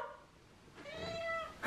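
A hungry cat meowing for food near its bowls at home: one drawn-out, rising meow, close and fairly quiet, with no talking.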